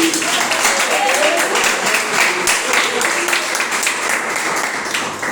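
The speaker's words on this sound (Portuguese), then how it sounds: "Palmas para Jesus" A church congregation claps steadily throughout, a dense crackling patter filling the room, with voices mixed in beneath it.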